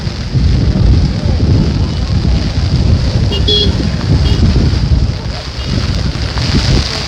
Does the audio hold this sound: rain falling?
yes